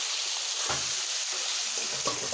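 Potatoes go into a hot pan of simmering chicken curry, giving a steady sizzle and frying hiss with a few soft stirring knocks and scrapes, close and continuous, no voices.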